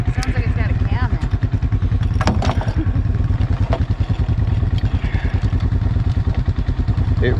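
A 2023 Polaris Sportsman 570 Trail Edition ATV engine idles close by with a lumpy, rapid, pulsing chug, while people talk over it.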